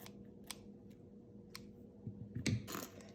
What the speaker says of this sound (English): Now I'm going to cut the stamen to about 1/2 inch.